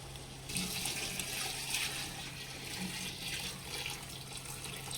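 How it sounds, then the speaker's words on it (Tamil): Water splashes and pours steadily into a cooking pot of chicken biryani for several seconds, close up, over a low background hum. "இப்போ தண்ணி ஊற்ற போகிறேன்."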